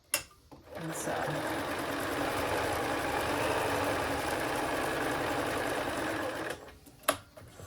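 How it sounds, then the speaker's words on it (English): A sewing machine stitches a small robe for a marionette, running in one steady, close, buzzing whir for several seconds before stopping, with a couple of short clicks and handling bumps at the start and end. "So I'm just going to push that over and sew."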